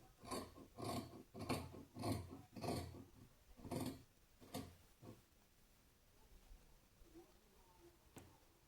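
Scissors cut through blouse fabric in a run of about seven crisp, rasping snips, steady and close. The snips then thin out into quieter handling of the cloth, with a faint voice in the background.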